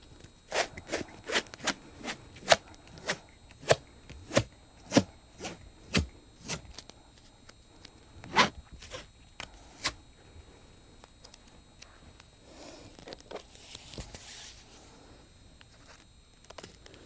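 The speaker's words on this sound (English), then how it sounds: "now we're gonna go ahead and take our 2-inch tape and we're gonna go up underneath the chin to the top portion of the board" Two-inch tape pulled off the roll and applied across a board up under a patient's chin, a close series of sharp ripping strips in a fairly regular rhythm, then quieter rustling and handling.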